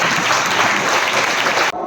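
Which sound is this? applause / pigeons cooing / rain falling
applause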